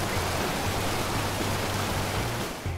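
A steady, continuous roar of rushing water from Brown Falls, broadband and unbroken, with a low rumble underneath throughout.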